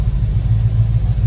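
Engine of a 1972 Ford F250 4x4 pickup fitted with a 1977 engine, idling with a steady, loud low rumble heard up close and alone.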